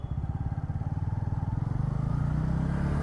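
A Bajaj Pulsar N160 motorcycle pulls away in first gear through Bangalore traffic, its engine thumping in a fast, even pulse that climbs in pitch and smooths into a steady close drone.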